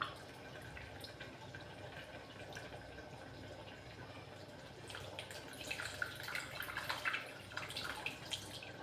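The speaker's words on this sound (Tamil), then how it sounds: "இப்போ வந்து புளி கரைச்சி ஊற்றிக்கலாம்." Dissolved tamarind water poured into simmering cabbage kootu, a soft, steady liquid trickle and splash that grows a little busier in the last few seconds, with no talking.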